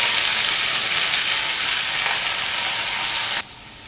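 Cumin and mustard seeds sizzling in hot oil as they are stirred into a bottle gourd curry, a steady, bright frying hiss close up that drops abruptly near the end, with no talking.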